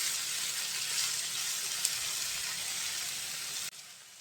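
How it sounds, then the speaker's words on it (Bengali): Mixed vegetables, spiny gourd and bitter gourd, fry gently over low heat in a pan, giving a soft, steady sizzling hiss that stays quiet and even before cutting off abruptly near the end. "এখন অল্প আঁচে সবজিটা ভেজে নেব।"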